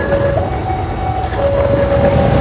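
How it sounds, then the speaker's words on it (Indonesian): A train passes close by a motorcycle rider, a loud steady rumble of wheels and rail noise with a faint tonal whine running throughout. "Sebentar nih kita lewat kereta dulu."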